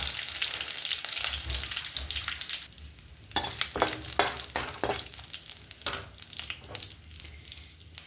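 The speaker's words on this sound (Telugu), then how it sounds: "జీలకర్ర వేస్తున్నాను, హోల్ గరం మసాలా వేసానండి, రా మసాలా, జీలకర్ర, ఎండుమిర్చి, 2 బిర్యానీ ఆకులు, అలాగే కరివేపాకు కొంచెం." Cumin, whole garam masala, dried red chillies, bay leaves and curry leaves frying in hot oil: a soft sizzle that turns to a louder crackle, with several distinct spoon-and-pan scrapes and clatters as the spices are stirred.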